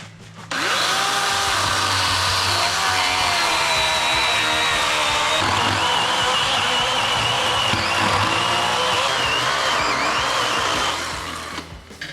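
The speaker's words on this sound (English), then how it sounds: "Makita electric chainsaw." A Makita electric chainsaw runs continuously at high pitch, its motor whining and shifting slightly in tone as it bites through a cow carcass during butchering, loud and close.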